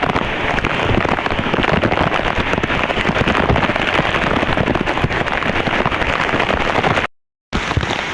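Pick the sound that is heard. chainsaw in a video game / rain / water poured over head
rain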